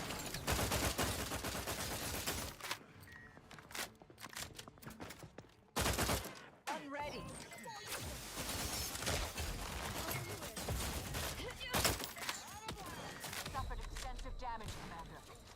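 Video game gunfire crackles in dense bursts and rapid volleys throughout, with brief pauses between, loud and close, mixed with game effects.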